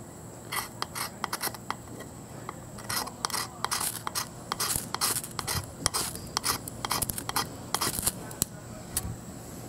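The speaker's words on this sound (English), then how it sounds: "at first I'm scraping some off, and then I'm trying to get it, that little pile" A Mora Companion knife scraping a ferro rod, heard as rapid repeated rasping strokes in irregular bursts, close and fairly loud, with no speech.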